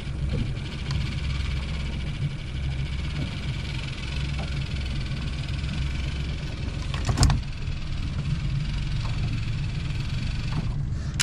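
Fishing boat engine idling at low speed on a palamut (bonito) fishing trip off Çıralı, a steady low rumble and hum with faint vibration, one brief louder knock or clatter midway, no talking.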